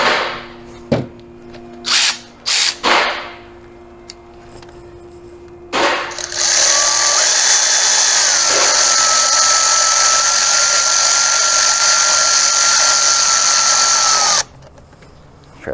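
A power tool tightens a loose band clamp on the engine of a 2004 Toyota Avalon, a steady loud whirring whine running for about eight seconds after a few clicks and knocks of handling.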